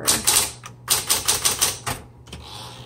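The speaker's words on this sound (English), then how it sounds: "this is another excellent working typewriter" A 1970s Smith Corona Coronet Electric 12 typewriter types in quick, loud, close clacking strokes, about a dozen keystrokes in short runs with a brief pause between them.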